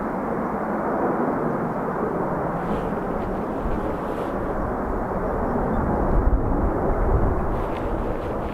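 A Ryanair jet taxis at Dublin Airport, its engines giving a loud, steady broadband roar that swells slightly toward the end, with no voices.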